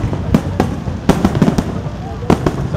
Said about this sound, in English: So lots of fireworks